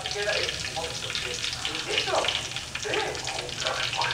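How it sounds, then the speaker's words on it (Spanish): Maize arepitas fry in hot oil with a steady, dense sizzle and bubbling crackle close by, holding at an even level throughout. "Una vez que el aceite esté caliente, procedemos a echar la arepita."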